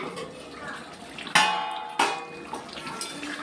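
Egg curry bubbling in a cooking pot: a steady wet simmer with two sharp metal clinks from a lid or tongs partway through.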